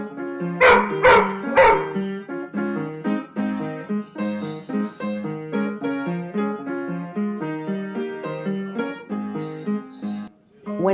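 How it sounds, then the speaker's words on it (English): A dog gives a sustained howling solo, several loud barks up front then a long melodic run of wavering yips and howls, close and clear with no talk. "And when Marlene does get inspired to give us a little solo, Buttercup is always there to listen and appreciate."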